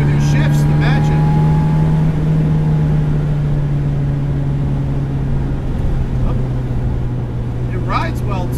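A supercharged 1967 MGB GT engine with a very light flywheel drones steadily, its pitch dropping in a couple of distinct steps as gears change, with the hum staying loud and close throughout.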